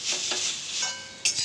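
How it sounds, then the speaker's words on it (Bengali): Ground taro leaf paste with raw onion fries in a pan, a bright continuous sizzle with brief stirring scrapes, close and alone. "এটা একটু ভালো করে ভেজে নিতে হবে"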